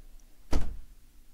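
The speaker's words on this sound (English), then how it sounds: "you close the door so she hears it" A door closes with a single solid thunk partway through, then the room goes quiet again.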